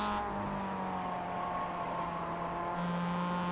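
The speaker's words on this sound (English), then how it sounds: "Just listening to the sound of the car." Mazda race car engine in the iRacing sim at Zandvoort, a steady droning whine holding near-constant pitch with a slight shift late on, heard alone without talk.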